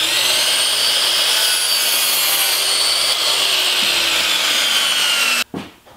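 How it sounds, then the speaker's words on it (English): Wooden frame stock being mitered in a wood shop: a continuous loud power-saw cut runs steadily for over five seconds, then stops abruptly with a brief spin-down. "the first thing I want to do is put a miter on one edge"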